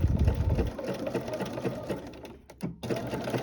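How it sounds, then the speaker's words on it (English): A sewing machine stitching back and forth over a coiled rope bowl, a rapid close mechanical chatter that keeps running before easing off briefly and resuming, with no talking. "then I'm just going to take some stitches back and forth"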